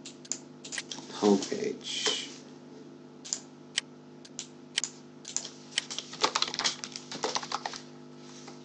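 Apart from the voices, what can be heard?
typing on a computer keyboard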